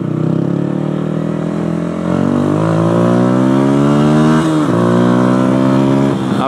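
A Yamaha YZF 125 four-stroke motorcycle engine revs loud and close, holding a strong steady drone that climbs gradually in pitch, dips briefly and then rises again.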